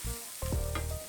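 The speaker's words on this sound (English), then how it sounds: "Stirring." Onion and garlic sauté in oil in a pan, a steady close sizzle broken by a couple of stirring scrapes, with no talking.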